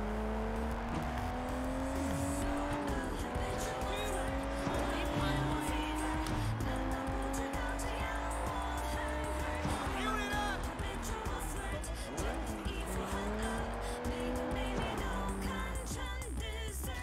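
Car engine revving and tires squealing in the open-world crime game Sleeping Dogs, a steady loud drone with rising and falling pitch sweeps running throughout, mixed with game sound effects.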